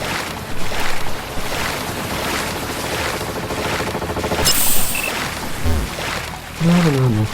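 Water washes and surges in the Crazy Party video game as a character wades in, a steady broadband swell with a few brief tonal blips and bursts near the end.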